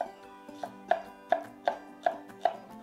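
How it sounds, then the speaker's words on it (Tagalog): A knife chops onions on a cutting board for chicken adobo with coconut milk: six or seven crisp, evenly spaced knocks, close and clear, with no talking over them. "Magcha-chop din ako ng sibuyas."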